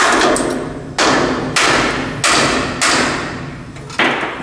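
Six heavy hammer blows land at an even pace on a semi-trailer brake shoe, knocking it off its pin, each a sharp metallic thud with a short ringing decay, close and loud.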